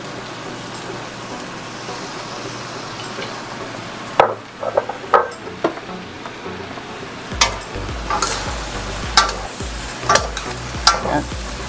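Seafood chow mein sizzles and is stirred in a hot pan as dark soy sauce goes in, with a constant frying hiss broken by loud, sharp scrapes and clatters of the utensil. Someone speaks briefly near the end.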